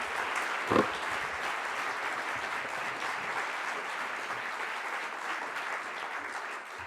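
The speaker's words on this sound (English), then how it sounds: "Can you please give a round of applause one more time?" Audience at a Martin Luther King Jr. Day community breakfast at Wellesley College applauding in a steady, sustained round of clapping, with one brief louder knock near the start.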